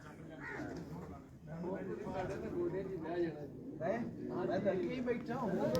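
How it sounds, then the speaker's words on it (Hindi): Pigeons in a breeder's loft coo repeatedly in soft overlapping calls, close by, while someone talks over them throughout. "कैसा ज़बरदस्त पल्ला है कबूतर का।"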